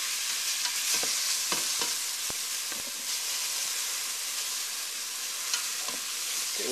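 Garlic cloves fry in a pan with a steady, close sizzling hiss, broken by a few sharp clicks of stirring.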